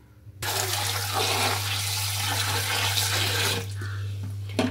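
Raw cashew nuts are washed under running water in a sink, a steady close gush of tap water that pours continuously and eases off near the end.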